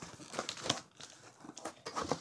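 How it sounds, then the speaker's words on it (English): Plastic and cardboard packaging of a Nerf Rival Apollo XV-700 blaster being ripped open by hand, a busy run of close crinkling, crackling and tearing with brief pauses. "I can just rip this open."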